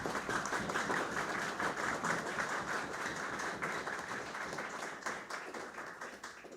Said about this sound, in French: je vous demanderai de vous mettre debout et d'applaudir chaudement le sérénissime grand maître